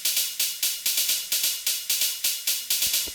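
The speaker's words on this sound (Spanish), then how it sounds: "En este caso tengo un platillo largo" Long cymbal played in FL Studio with no envelope applied, a string of identical bright crashes struck at a steady, even pulse, each one sustaining at equal length and loudness before the next hit, with no voices.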